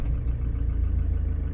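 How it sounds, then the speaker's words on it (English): A Ford Transit van's engine runs at a steady, loud idle throughout, with a deep, even rumble and no talking. "we'll go ahead and start the vehicle"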